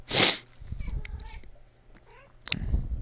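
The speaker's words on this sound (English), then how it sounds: "that's my cat meowing" A house cat lets out a loud, drawn meow at the start and another cry near the end, with quieter vocal sounds and low voices between them, heard over racing-game audio.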